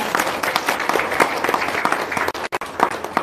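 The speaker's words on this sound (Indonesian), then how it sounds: "Tepuk tangan dulu dong." An audience at a testimonial seminar gives dense, loud applause with many overlapping claps, briefly dipping near the end before picking up again.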